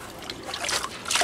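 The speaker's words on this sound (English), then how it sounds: "rinse the sponge out all the way," Water trickles and splashes as a sponge is rinsed out during stone veneer installation, soft sloshing and dribbling close by, with no talk.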